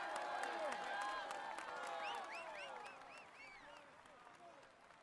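Crowd applause and cheering at a stage finish in the Tour de France 2016 cycling video game on PS4: dense clapping with whistle-like chirps, fairly faint and gradually fading over five seconds.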